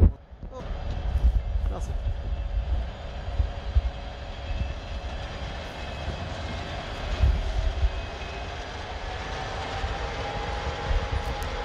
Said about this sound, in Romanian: Trenul Regio 2043 Simeri Arad.